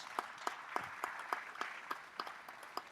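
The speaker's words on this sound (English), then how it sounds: "Can we give him a round of applause?" Faint, evenly spaced claps sound at a quick steady rhythm as a conference audience welcomes a panel reactor to a business congress panel, sparse and distant.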